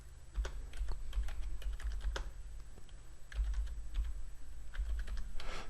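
Rapid typing on a computer keyboard, a steady run of close, crisp key clicks with brief pauses, alone without speech.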